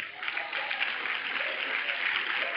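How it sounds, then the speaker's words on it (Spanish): A church congregation claps during a worship service, producing a steady, moderately distant wash of applause that continues evenly for a couple of seconds. "Un aplauso a Cristo, hermano."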